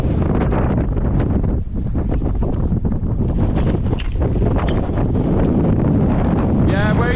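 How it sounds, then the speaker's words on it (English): Strong wind buffets the microphone on a rocky Lake District fell summit, Glaramara at 783 metres, a loud continuous roar with gusty surges and no pause. "Wind's back."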